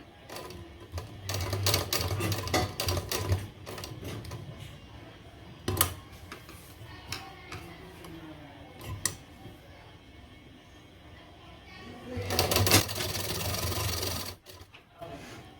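A sewing machine stitches a Bombay cut blouse in bursts of rapid mechanical clatter, separated by quieter pauses with small handling sounds, the final run longer and louder.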